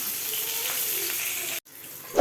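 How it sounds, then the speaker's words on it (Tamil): Mustard seeds, chana dal and curry leaves fry in hot oil, a steady crackling sizzle that cuts off abruptly, followed by quieter sizzling and a short clunk. "கடுகு கொஞ்சம் கடலைப்பருப்பு இருக்குது கொஞ்சம் கருவேப்பிலை ஆட் பண்ணிக்கலாம்"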